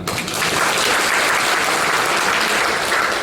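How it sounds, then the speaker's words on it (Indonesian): A crowd at a business training event opening applauds, a loud, dense, steady roar of clapping hands that starts abruptly and holds evenly to the end, with no speech over it. "Tepuk tangan."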